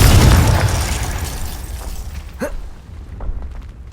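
Fiery Confringo spell blast in Hogwarts Legacy, a loud burst at the start that rolls into a fading rumble, with a short whooshing pop midway and quieter crackles trailing after.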